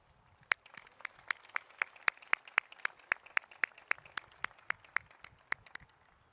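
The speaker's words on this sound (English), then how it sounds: "Let's give a round of applause for our retiree." Sharp, evenly spaced claps at a high school graduation ceremony for a retiree, a single steady rhythm of distinct hand slaps, fairly faint and isolated rather than a full crowd roar.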